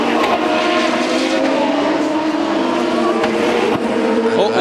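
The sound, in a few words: race car passing during Molson Indy Montreal qualifying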